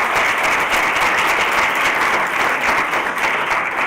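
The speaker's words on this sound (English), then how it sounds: "So, thank you all. Round of applause." Conference attendees at the OER19 open education event applaud at the close of a session, a loud, dense, sustained wash of clapping from a large room filling the whole stretch.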